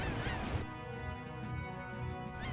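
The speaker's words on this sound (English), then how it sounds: "almost sounds like he's getting drowned out by the sea and birds" Seabirds honk and call repeatedly over a steady wash of sea noise in the Tales of Vesperia video game, a loud continuous bed with bird cries rising and falling throughout.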